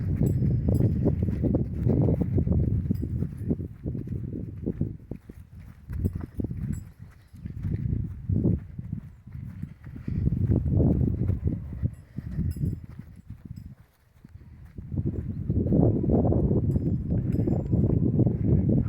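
A black stallion's hooves clip-clop in an irregular walking rhythm on hard ground, fairly close, with brief pauses between bursts of steps and no talking.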